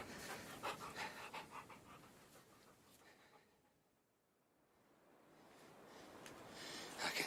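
An old dog with a sore leg pants after a long walk. Soft, rhythmic breaths fade to silence midway, then return faintly and close.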